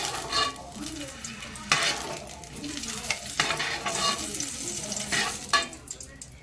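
Red chillies fry in a pan for coconut chutney, a soft sizzle with repeated scraping and stirring strokes of a utensil against the metal, fairly quiet and close.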